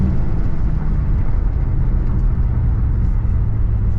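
A BMW G80 M3 Competition xDrive from 2023 accelerates in first gear under manual shifting, its engine a steady, loud, low droning roar heard from inside the car with no break.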